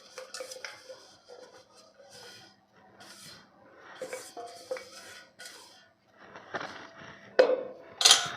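Ragi ladoo mixture, freshly ground in a mixer, scooped from the jar onto a plate, giving close scraping and clinking of a spoon on metal, several uneven scoops with a sharper clank near the end.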